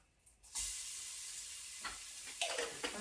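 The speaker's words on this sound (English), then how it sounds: "I can hear the popping sound. It's popping." Ingredients for kitchari hit a hot pan and burst into loud, steady sizzling and popping, with a few sharper crackles and stirring surges near the end, close up and with no voices.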